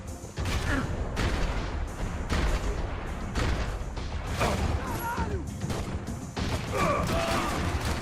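Several sharp bursts of gunfire crack through a shootout in the game Max Payne 3, close and loud, with voices talking between the shots.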